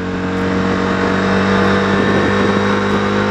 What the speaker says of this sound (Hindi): तो अब लगा दिया मैंने इसका पहला गियर, और पहले गियर पे पूरा आपको वाइब्रेशन टेस्ट दिखाऊंगा, पूरा RPM लेके जाके